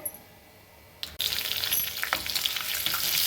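Onions tipped into hot oil already holding cumin, mustard seeds, urad and chana dal, curry leaves, ginger and green chilli for Karnataka-style karabath, bursting into loud, close sizzling after a quiet start and frying steadily with a few stirring clinks.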